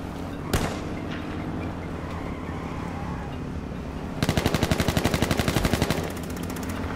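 Gunfire in H1Z1 battle royale: a single sharp shot early, then a rapid automatic burst of roughly a dozen evenly spaced rounds, loud and close over steady game ambience.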